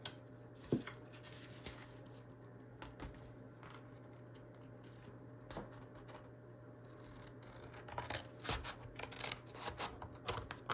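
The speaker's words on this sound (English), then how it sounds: "So I'm just gonna cut out a few tags and just show you what they look like." Scissors snip through paper scraps to cut out junk-journal tags, quiet and close, with a few scattered cuts and soft rustling of paper against a steady low background hum.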